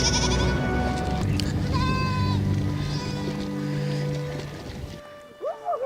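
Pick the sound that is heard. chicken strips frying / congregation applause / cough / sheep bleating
sheep bleating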